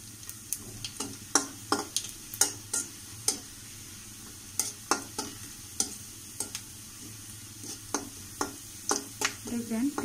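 Onions frying with ground cumin in a pan for a bitter gourd and fish belly dish, with a steady low sizzle under repeated sharp clicks and scrapes of a spatula stirring.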